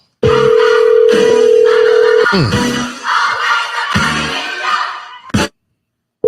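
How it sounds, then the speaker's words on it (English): A telephone rings unanswered, a steady electronic tone holding for a couple of seconds and then giving way to busier line noise before cutting off abruptly. "He ain't want to answer the phone."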